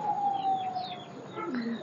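Pigeons coo softly nearby in calm morning air after rain, a few low gliding calls over a faint background.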